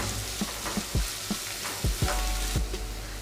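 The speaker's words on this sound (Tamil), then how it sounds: "இது நல்லா சேர்த்து ஒன்றா வதக்கிக்கோங்க." Crushed ginger and garlic sauté in hot oil in a pan for a Kerala fish curry, a continuous close sizzle broken by soft scraping stirs and small clacks of the spoon.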